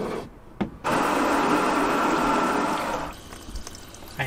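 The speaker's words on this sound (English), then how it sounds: "I hear a lot of water running" Water spraying hard onto the outside of a camper van to simulate a heavy rainstorm, a loud broad continuous hiss after a few brief bursts, cutting off into quieter dripping and trickling.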